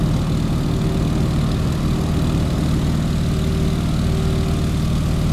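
A single-engine propeller airplane takes off in Microsoft Flight, with the tail lifting at around 60 knots. The engine drones steadily at full power with a constant buzzing propeller tone, loud and close throughout.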